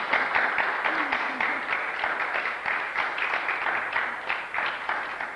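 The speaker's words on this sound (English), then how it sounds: "were you applauding Suzanne or the planning board" Audience at a planning board meeting applauding after a unanimous vote, a steady wash of many hands clapping that holds at moderate loudness throughout.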